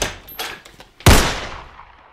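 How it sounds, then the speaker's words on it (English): Gunfire effects in a holiday-themed short film: a few lighter cracks and knocks, then one loud, sharp blast with a booming low thump and a decaying tail, close and alone. "this time, let's just shoot a lot of bullets."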